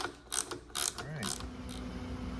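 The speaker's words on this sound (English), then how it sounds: "Using a 9/16 and 7/16 wrench." Wrenches, a 9/16 and a 7/16, tighten a fitting on a Triumph oil line, giving a few quick metallic ratcheting clicks and clanks close by, with brief pauses between them.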